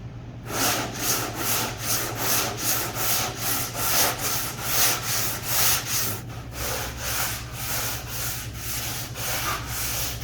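Car body repair on rear-end collision damage, sanded by hand with 240 grit sandpaper in steady rhythmic back-and-forth strokes, loud and close with no voices.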